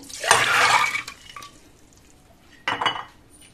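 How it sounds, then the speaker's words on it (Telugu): Water pours into a pressure cooker holding soaked chickpeas in two short splashing bursts, the first longer and louder and the second briefer, close by with faint clinks in between and no speech. "ఇప్పుడు కుక్కర్లో వేసుకొని"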